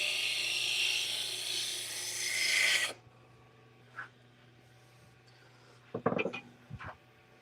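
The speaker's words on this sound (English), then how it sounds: "I'm going to sand this down a little bit." A few seconds of steady, rough abrasive rubbing as wood is sanded, then it stops, followed by a few scattered knocks and handling sounds.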